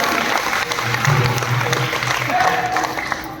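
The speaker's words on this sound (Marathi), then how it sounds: "एकदा टाळ्या वाजवा" An audience claps along at a kirtan during an Ashadhi Ekadashi gathering, a steady wash of applause blended with ongoing music and murmuring voices, fairly close and even throughout.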